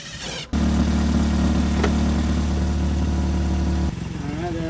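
An engine from a wrecked Toyota with 273,000 miles catches and runs at a steady, loud idle close by, its low drone holding before dropping back slightly near the end.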